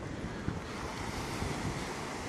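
Surf washing onto the beach at Fortaleza, Ceará on a sunny morning, a steady broadband roar of breaking waves with wind buffeting the microphone, fairly close and continuous with no voices.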